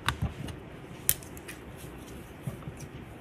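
Scissors snip through a piece of paper coffee filter in a craft setting, giving a few soft, quick close-up cuts with one sharper snip, faint and alone with no talking.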